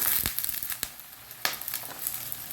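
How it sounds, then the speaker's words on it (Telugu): Malabar spinach leaves tossed into a pan of frying onions, green chillies and ginger-garlic, giving a soft steady sizzle broken by a few sharp crackling bursts, close and moderately quiet with no talking. "ఇప్పుడు ఆకుకూర వేస్తున్నాను, బచ్చల కూర"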